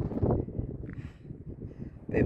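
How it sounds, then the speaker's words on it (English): Wind gusts buffet the microphone at a scenic viewpoint, a low rumbling roar that swells and eases, with faint brief sounds in between. "Bit windy."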